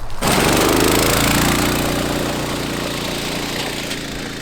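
A go-kart fitted with a cheap 18HP Temu engine bursts into a loud, close, throbbing run after a brief silence, holding a steady rough drone that eases slightly toward the end.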